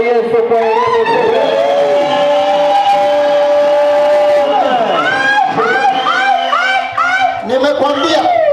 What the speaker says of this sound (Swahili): Shangwe kwa Bwana Yesu kwa elimu.